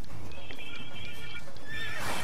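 A horse in The Witcher 3 lets out a loud, close whinny alongside clip-clopping hooves, filling the whole moment with no talk over it.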